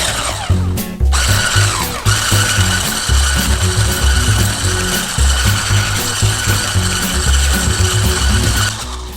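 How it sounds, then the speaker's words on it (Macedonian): A Delimano hand mixer beats banana muffin batter in a bowl, its steady loud mechanical whir running throughout with a rhythmic rattling chatter and a couple of brief sharp clicks near the start. "Си го зимаш рашниот миксер од Делимано и си цепаш."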